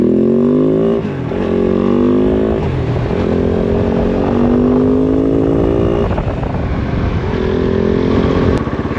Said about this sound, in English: the engine is running much more smoothly at lower revs with the idle air control valve solenoid unplugged